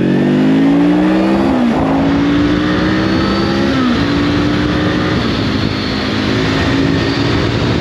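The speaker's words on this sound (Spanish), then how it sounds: "Y voy a darle gas con tercera incluida también hasta el puente" A VOGE 525 ACX motorcycle (2023) accelerates hard through second and third gear, its engine note climbing loudly and steadily, dropping briefly at each shift and then rising again, close up and continuous with no talking.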